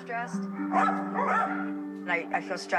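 Dogs at an animal shelter bark and yip in short bursts close by, with high whining tones between the barks.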